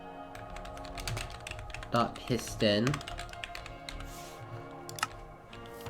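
Computer keyboard typing while writing Minecraft block piston code, a steady patter of soft keystrokes running under a man's speech throughout.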